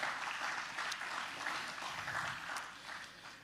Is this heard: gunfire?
no